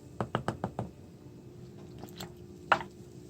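Wooden spoon stirring bubbly kombucha: five quick wet knocks and sloshes in a fast rhythm, a pause, then a few softer swishes and one sharper clack, close and fairly quiet.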